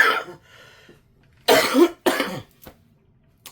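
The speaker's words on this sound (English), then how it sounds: "I'm like having a coughing attack now." A person's coughing fit: several harsh, close coughs in separate bursts with short pauses between them, loud against an otherwise quiet room with no speech.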